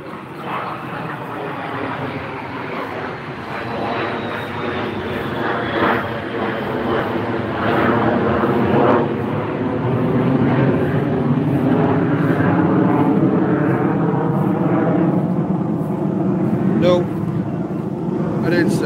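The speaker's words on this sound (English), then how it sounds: "We got jets flying over." Jet aircraft passing over a yard, a broad, steady engine roar that swells and lingers for the whole stretch, overlapping a voice talking nearby.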